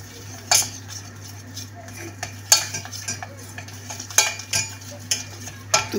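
Butter and flour are stirred together in a metal pot for béchamel, a spoon scraping and clinking against the pot in irregular knocks over a steady low hum, with no talking.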